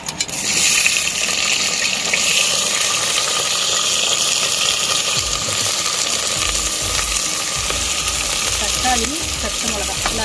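Onions hit hot oil with cinnamon, cloves, fenugreek and cumin for quail kurma, setting off a loud, steady hiss of sizzling that fills the whole stretch, with a voice briefly heard near the end.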